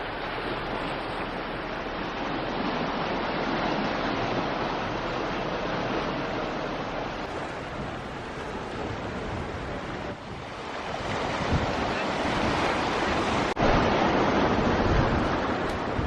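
Sea waves surge against the curved sea defence wall at St Ives, Cornwall. The roar of the surf is continuous and loud, swelling and easing, with heavy wind buffeting the microphone and no voices.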